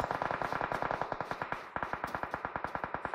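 Rapid automatic gunfire from PUBG Mobile tournament gameplay rattles in a fast, steady stream of sharp shots, loud and continuous apart from a brief break.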